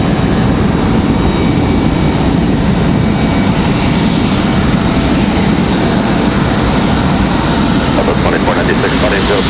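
An Airbus A321neo jet at Raleigh-Durham airport makes a loud, steady engine roar that fills the whole stretch without a break, heard at some distance in the open.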